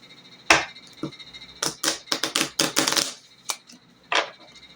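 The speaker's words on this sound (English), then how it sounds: "I'm going to shuffle them a bit." Cards for a deckbuilder dungeon-crawler board game shuffled by hand, close and quiet, with short bursts of rapid papery clicks separated by brief pauses.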